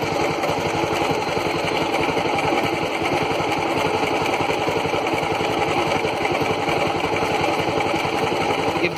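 A motorbike engine idles steadily while its charging system is tested, a continuous close rumbling putter with an even rapid pulse and no pauses.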